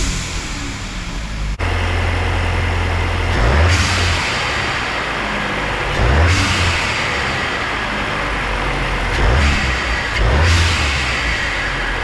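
A Mk8 Golf GTI revs hard in a garage several times, each short burst of engine noise ending in a loud, sharp hiss as the blow-off valve vents; four or five rev-and-release cycles come close together with no talking.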